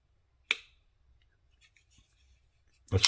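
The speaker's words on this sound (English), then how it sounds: "that is a satisfying little clack when that closes." A Twosun TS275 folding knife with titanium and carbon fiber build snaps shut in two sharp, close clacks, one early and a louder one near the end, with near silence and faint handling in between.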